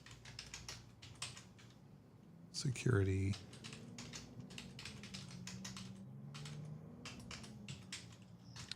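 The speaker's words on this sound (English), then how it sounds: "Love your nice mechanical keyboard sound there." Rapid clicking keystrokes from a mechanical keyboard run steadily throughout, with a brief louder burst of voice and a person speaking intermittently over the typing.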